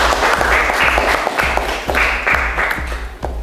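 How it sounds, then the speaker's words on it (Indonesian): Steady applause fills a classroom as students clap together for everyone, with rhythmic claps close by over a dense wash of hand-clapping. "Tepuk tangan untuk semuanya dulu ya."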